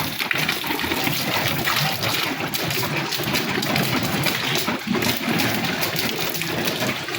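Mineral water pouring steadily at a spring where people fill containers, a dense continuous rush of flowing water close by with no talk.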